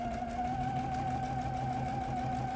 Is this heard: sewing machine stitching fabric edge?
yes